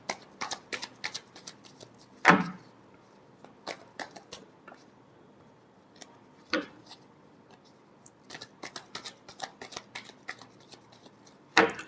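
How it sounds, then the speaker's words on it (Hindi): Tarot cards being shuffled by hand, quick papery riffles and flicks in close bursts with a few sharper slaps of the deck between them, in a quiet room. "Last shuffle."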